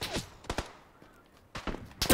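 Sharp gunshots ring out in PUBG: a few loud reports close together at the start, a quiet gap with a faint shot, then another cluster of cracks toward the end.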